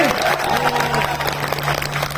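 Sustained applause from a crowd at an Indian National Congress political rally, dense and steady clapping throughout with a loud hum underneath.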